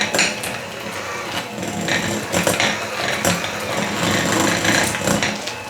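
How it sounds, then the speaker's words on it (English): An electric mixer beats room temperature cream cheese in a mixing bowl, giving a continuous, close whirring drone with gritty rattling that swells and eases slightly throughout, with no voices. "into my mixing bowl, I'm going to add the room temperature cream cheese. We're gonna beat that until it's nice and light and creamy"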